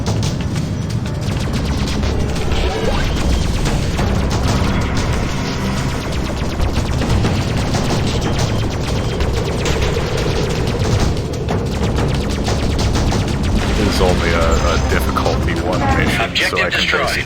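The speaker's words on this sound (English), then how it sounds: "So this clown has a turret which can fire backward." Turret gunfire in a space dogfight in the game Freelancer, dense and continuous with a constant rattle of shots and blasts layered together. Someone talks over the whole stretch.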